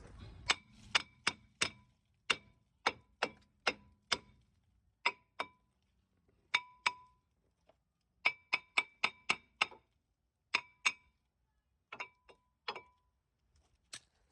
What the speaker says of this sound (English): All I have to do is to give the rotor some taps until it comes out